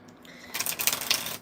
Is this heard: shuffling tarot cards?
yes